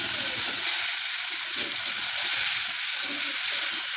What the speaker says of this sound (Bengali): এবার আমি মশলাটা দিয়ে দিলাম ওটাতে অনেকটা মশলা লেগে রয়েছে একটু জল দিয়ে মারি দিলাম